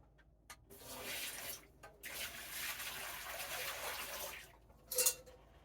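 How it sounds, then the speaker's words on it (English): Hot tap water from a sink gushes and splashes down a drain in a steady pour, pausing briefly between bursts, with a short clink near the end. "I have two other ones of just sink hot water that I'm going to pour down"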